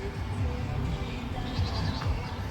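Goats kept in a back pen at an outdoor roadside stop give off bleats over a steady background murmur, with several overlapping calls spread across the short stretch.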